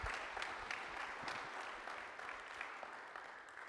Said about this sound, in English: Give him a warm round of applause, guys.